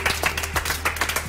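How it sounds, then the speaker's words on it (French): Studio audience at a French television game show clapping in a brief burst of fairly close applause, scattered claps layered over a low hum. "Ça s'applaudit."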